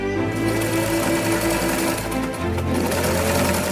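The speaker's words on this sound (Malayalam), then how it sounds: "സ്വന്തമായി തുന്നിയാണ് ഇവർക്കുള്ള വസ്ത്രങ്ങൾ സമാഹരിക്കുക" A sewing machine stitching clothing runs in a fast, continuous mechanical whirr, close and steady throughout, with a slight change in pitch partway through.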